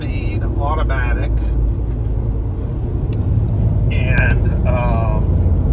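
A 2009 Mazda5 with a 5-speed automatic cruising on the highway at about 3,400 RPM, giving a steady low engine and road rumble throughout, with someone talking over it.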